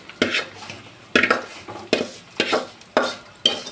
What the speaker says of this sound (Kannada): ಈಗ ನಾನು ಶಾವಿಗೆ ಹಾಕ್ಕೊತಾ ಇದ್ದೀನಿ ಅದರಲ್ಲಿ